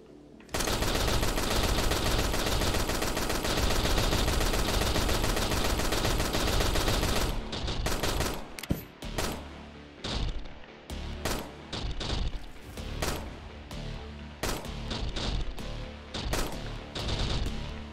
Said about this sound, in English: I've gotten the chain explosions to work.